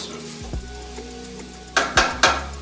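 Red onion sizzles steadily in a pan for cream of tomato soup, while a spoon or spatula clanks and scrapes against the pan in a few sharp knocks near the end. No one speaks.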